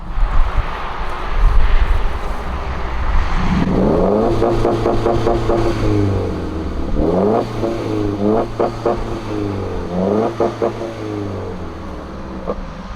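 Subaru WRX (2015 or later) engine held on launch control at 3400 rpm, loud and close: a rough idle, then repeated sharp revs bouncing against the limiter in bursts with short gaps between.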